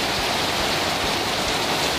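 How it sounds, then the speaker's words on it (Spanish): Heavy rain pouring down in a downpour on a coastal fishing tournament day, a dense, constant loud hiss of drops hitting surfaces with no pauses and no voices. "Llueve fuertísimo."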